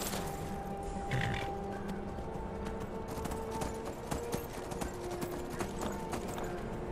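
Hooves clop steadily as a horse is ridden along in the Skyrim video game, a continuous rhythmic trot at moderate volume with soft sustained game music tones underneath.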